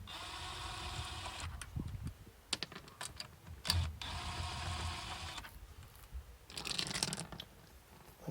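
Small impact gun removing wheel bolts on an Audi A3, giving several short rattling bursts with brief gaps between them, fairly close but faint.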